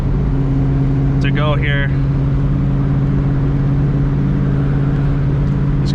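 Steady, loud engine drone of a 1987 Mustang GT with a 347 V8 while driving, a constant low rumble heard from inside the cabin, with someone briefly speaking over it.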